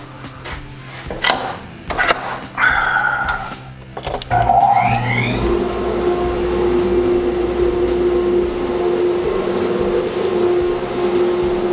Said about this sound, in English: I've got my vacuum system set up. I'm going to open the vacuum gates and turn that on real quick.